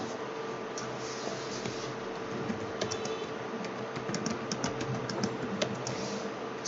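Steady typing on a computer keyboard while entering text into a PowerPoint slide, a continuous patter of quick, light key clicks with no talk over it.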